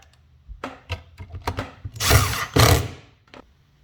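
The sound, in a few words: power drill driving flat head screws into pre-drilled holes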